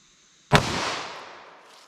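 .38 Special revolver fired into four layers of denim over quarter-inch medium density fiberboard, a single sharp, loud report with a long decaying echo, outdoors, no speech.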